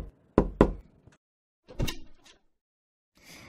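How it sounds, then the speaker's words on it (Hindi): Knocks on a door come in a quick pair of sharp raps, followed after a pause by a few more muffled knocks, loud and close in an otherwise quiet room. "उसी वक्त किसी ने दरवाजा खटखटाया।"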